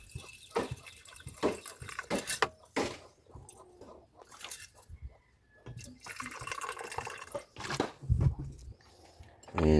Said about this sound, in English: And cover with distilled water.